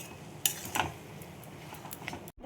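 A spoon stirs cooked chal kumro (ash gourd) curry in a pan, giving a few close clinks and soft scraping knocks against the metal, with a faint sizzle underneath.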